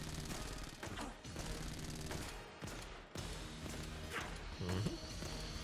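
A boss weapon's area denial attack in Enter the Gungeon unleashes a rapid barrage of gunfire, dense overlapping shots and crashes rattling continuously with brief dips before a heavier burst near the end.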